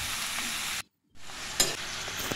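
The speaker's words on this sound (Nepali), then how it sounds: "मैले चाहिँ यसलाई यसरी 5 मिनट जति एकदमै राम्रोसँग चलाउँदै चलाउँदै पकाउने" Snake gourd curry fries in a pan and a spoon stirs it, giving a loud, steady close sizzle that drops out for a moment and then comes back with a scrape.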